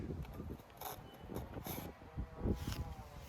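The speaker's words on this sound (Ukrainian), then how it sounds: "От в воздусі просто летить, стоїть шум бджіл, які обльотуються." Honeybees on a winter cleansing flight at an apiary make a faint, diffuse buzz outdoors, partly masked by low wind rumble and handling noise.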